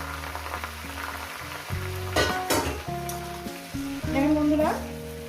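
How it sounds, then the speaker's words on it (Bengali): Mustard greens frying with garlic in a pan, a steady close sizzle broken by louder bursts of spattering and stirring scrapes, with a low hum underneath. "শাকটাকে দিয়ে যেরকম শাক ভাজা করে সেইভাবে আমি রসুনের সঙ্গে ভেজে নেব"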